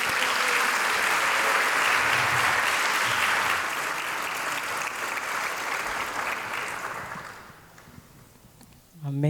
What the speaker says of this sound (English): Please give a round of applause to Antonique Smith.